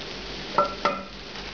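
Paprika and bay leaves stirred in a pan for shrimp saag, with two quick close scrapes of the utensil over a steady low hiss of cooking.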